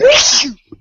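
A single sharp, loud sneeze bursts out close by, ending abruptly with a short breathy catch after it.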